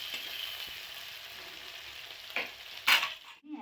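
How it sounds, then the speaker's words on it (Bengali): Green chillies and ginger are stirred in a hot frying pan, a steady oil sizzle broken by a few sharp scraping strokes of the spoon near the end, close up with no voices. "এবার আমি ভালো করে নেড়ে নেব।"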